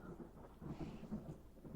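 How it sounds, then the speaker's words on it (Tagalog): Faint, distant thunder rumbles low and continuous for a moment, soft and muffled with a hint of rain-like texture. "ang lakas ng kulog at kidlat"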